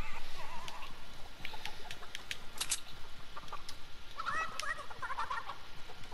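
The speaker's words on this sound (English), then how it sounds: "That's a chicken." A chicken clucks inside the Fortnite video game, with scattered short clucks and chirps over a steady ambient game background, moderately near and mixed with other game sounds.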